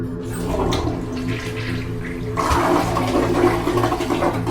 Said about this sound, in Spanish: escuchamos cómo corría el agua del tanque de la taza del baño